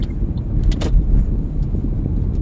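Heavy road traffic rolls past outdoors, a steady low rumble of car engines and tyres with a faint clatter near the start, filling the air without any voices.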